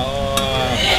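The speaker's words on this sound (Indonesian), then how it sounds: "dia mendidih dengan begitu baik sekali" Chicken curry with chicken stock cube bubbles and sizzles steadily in a cooking pot, with one brief metallic clink of a utensil partway through and no voices.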